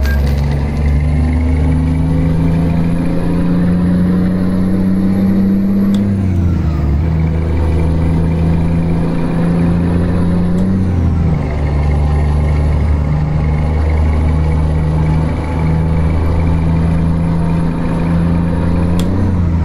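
A steady, loud truck engine in Euro Truck Simulator 2 drones continuously, with brief shifts in pitch as it changes gear or load, and no voices.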